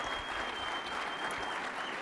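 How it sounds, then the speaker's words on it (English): Steady applause from a banquet audience, dense and continuous throughout without pause, many hands clapping at once in a large room. "go ahead and clap again"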